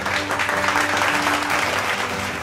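Students and guests clap at an achievers' awarding ceremony, a short, dense burst of applause, close and even, with a low steady hum underneath.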